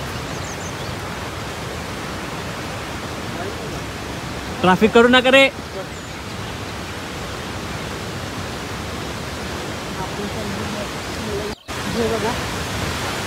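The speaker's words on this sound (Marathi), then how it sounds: "तुम्ही आवाज ऐकू शकत आहे धबधब्याचं किती भारी येत आहे" A waterfall roars as a broad, steady rushing wash of water noise, close and continuous, with a brief shout from a person partway through.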